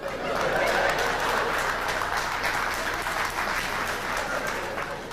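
Steady applause from a church audience during a sermon, a sustained wash of clapping from a crowd that stays loud throughout and fades slightly toward the end.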